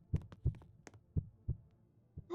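Heartbeat sound effect in a video game: a steady series of deep, thumping beats, about one every third of a second, loud and alone without any talk.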